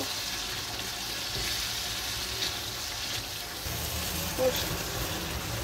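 Ginger, garlic and cumin paste with green chilies frying in a pan as the masala for beef bhuna, a steady soft sizzle running throughout with a brief clink near the end.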